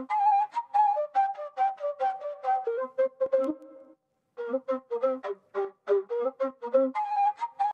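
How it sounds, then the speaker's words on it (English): A synth flute from a music production session in FL Studio plays a simple, quiet staccato melody alone, in two short phrases with a brief gap between them and a gentle reverb tail. "with this flute, what I did is I added this automation, which is very subtle"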